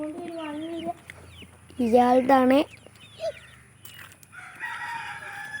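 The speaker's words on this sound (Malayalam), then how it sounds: "ഇതിലുണ്ട് എല്ലാ കോഴിക്കളും ഉണ്ട്." Chickens on a farm, with a rooster giving a loud crow close by and hens clucking softly, mixed with brief human speech.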